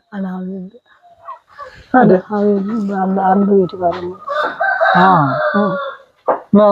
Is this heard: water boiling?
no